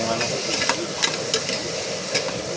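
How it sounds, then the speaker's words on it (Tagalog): Stirring chicken for arroz caldo in a pot, a steady sizzle and hiss with scraping stir strokes recurring close by, and faint talk in the background. "Halo-haluin natin hanggang magpula"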